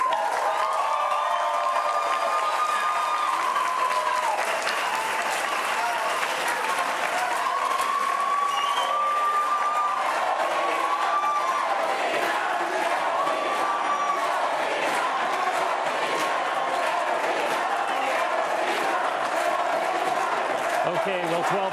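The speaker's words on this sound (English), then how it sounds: "let's have the audience applaud you both" A debate audience applauds the candidates after a Rhode Island Democratic gubernatorial primary debate, with loud, sustained clapping and some cheering that holds steady throughout.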